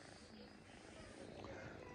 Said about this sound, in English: Y'all hear him purring?